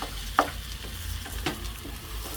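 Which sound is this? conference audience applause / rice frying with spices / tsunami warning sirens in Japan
rice frying with spices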